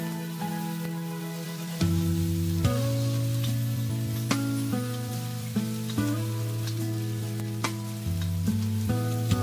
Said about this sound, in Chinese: 油热下入五花肉，把五花肉炒出油脂